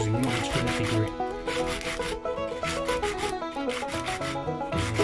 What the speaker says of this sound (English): Tubes need rubbing on sandpaper just to give it a bit of key up for the glue.